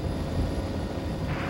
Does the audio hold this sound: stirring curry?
no